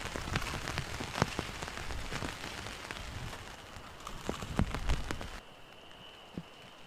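Steady rain patters on a hot tent during a cold spring solo overnight camp, a dense close hiss of drops with sharper individual hits, then easing to a quieter, thinner patter near the end.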